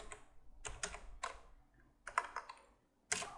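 Keystrokes on a computer keyboard come in short irregular bursts while a project name is typed, with a few pauses between clusters of taps; close and fairly quiet, with no talking.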